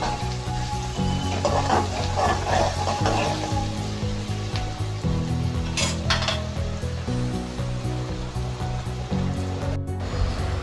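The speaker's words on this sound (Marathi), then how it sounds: "कांदा भाजण्यासाठी थोडंसं मीठ टाकून घेत आहे।" Onion with a pinch of salt frying for pav bhaji in a pan, giving a dense, continuous loud sizzle with occasional stirring scrapes, close up and steady throughout, no voices.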